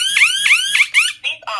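A Vinker T-01A wireless home alarm sounds loud and close, a rapid series of four rising electronic chirps followed by two shorter tones, with no talk over it.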